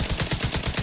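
Rapid automatic gunfire in a video game, a short burst of about six evenly spaced shots under a second long, loud and close.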